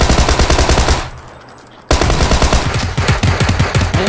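Rapid bursts of in-game gunfire from a PUBG match, loud and close, with a brief lull in the middle before the shooting resumes in dense repeated volleys.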